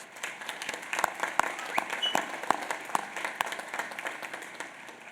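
Commencement audience applauding at Union College's 2015 graduation ceremony, with sustained dense clapping from a large crowd filling a hall and a few sharper individual claps standing out.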